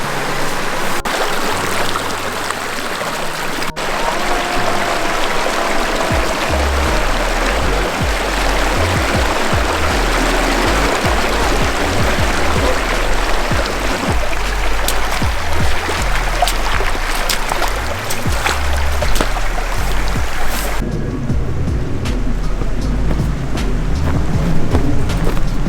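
A small autumn creek flows with a steady, close rushing and babbling of water that fills the whole stretch, with no one talking.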